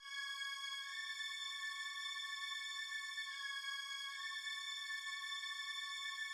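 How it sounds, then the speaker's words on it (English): A Xenology string ensemble synth preset sustains a thin, high, airy chord with no low end, held smoothly at a soft, even level and heard alone. "so I went with this little string ensemble preset in Xenology again"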